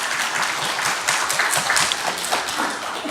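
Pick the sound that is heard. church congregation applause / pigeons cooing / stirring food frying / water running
church congregation applause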